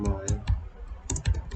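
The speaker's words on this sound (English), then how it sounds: "Now type your words which you want to enter." Keys clacking on a computer keyboard in short irregular bursts of typing, close and crisp, with brief pauses between groups of strokes and a voice faintly present.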